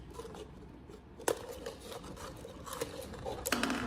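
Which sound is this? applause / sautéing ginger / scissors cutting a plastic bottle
scissors cutting a plastic bottle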